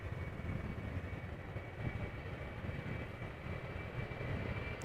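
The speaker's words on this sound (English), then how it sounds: "Embraer 190, KLM flight 1173, going to Trondheim." A 14-year-old KLM Embraer 190 departs Amsterdam Schiphol Airport, its jet engines a steady distant roar with a thin high whine held throughout.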